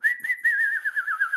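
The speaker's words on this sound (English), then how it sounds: "Y'all give them a whistle." Audience members at a masterclass whistle in one steady, wavering tone with a few short warbling chirps at the start, moderately loud and close, with no talk over it.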